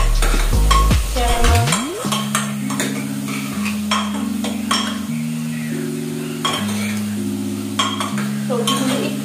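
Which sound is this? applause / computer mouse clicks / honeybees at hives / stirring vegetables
stirring vegetables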